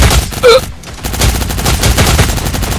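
Rapid bursts of automatic gunfire in the shooting video game Cyber Hunter crackle continuously, punctuated by a few louder single shots and a brief gap, sounding close and intense.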